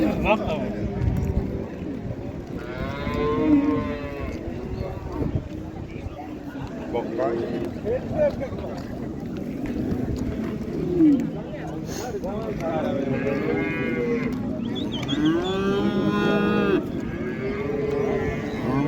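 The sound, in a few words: cattle mooing at a livestock market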